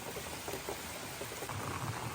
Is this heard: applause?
no